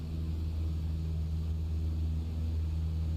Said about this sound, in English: Your wind check on the island is 5 knots, 267 degrees, so we will land runway 27